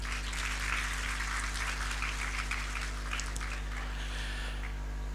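An audience claps together at a naat conference, a steady dense patter of applause throughout over a constant low electrical hum.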